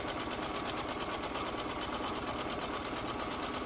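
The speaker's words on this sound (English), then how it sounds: "And then just sew my 1/4 inch seam." A sewing machine runs steadily, stitching a quarter-inch seam while a mitered quilt border is pieced, a fast even mechanical hum that stays loud and unbroken throughout with no voices.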